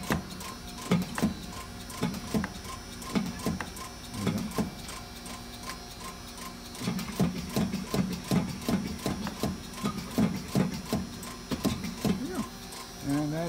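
A Strippit Super 30/30 punch press duplicator runs nearby with a steady rhythmic clatter. Its repeated mechanical thumps and ticks keep going the whole time, with only brief, faint pauses.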